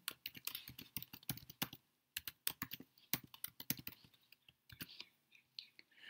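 Typing on a Mac laptop keyboard while writing a program in the TextMate editor: quick, close, crisp key clicks in irregular bursts with a couple of short pauses, no talking.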